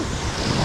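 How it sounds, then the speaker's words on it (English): A brief rush of splashing water and wind noise on a water park ride at Hurricane Harbor, Six Flags Over Georgia, loud and close, filling the whole moment. "The water hit me in the face again."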